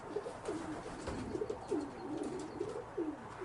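Racing pigeons coo inside a loft, with a soft, repeated rolling call every second or so, moderately near and continuous over a low ambient hum.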